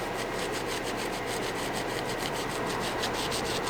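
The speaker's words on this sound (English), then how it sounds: "all I'm doing is spinning it inside this green scuff pad, and it seems to be taking some of this carbon right off of there" A green scuff pad is spun around a 24-valve Cummins diesel injector nozzle to scrub off carbon. It makes a continuous, close, gritty rubbing hiss with a faint rhythmic pulse from the spinning.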